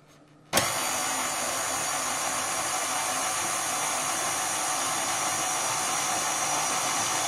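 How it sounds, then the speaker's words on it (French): A stand mixer fitted with a dough hook kneads brioche dough, its motor switching on abruptly after a moment of near silence and then running as a steady, close, continuous whir with no talking. "Voilà 10 minutes que le robot est en route."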